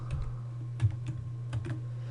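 Computer keyboard typing at a desk, entering software commands: several short bursts of clicky keystrokes at close range over a steady low hum, with no speech.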